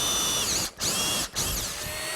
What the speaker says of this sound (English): Now I'm going to go to a slightly bigger drill and just enlarge the hole in the post.